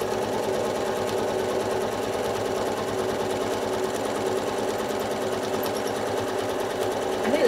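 Sewing machine quilting a beginner nine patch block runs continuously at high speed, a loud, close and even mechanical hum with a rapid stitching rhythm throughout, no pauses.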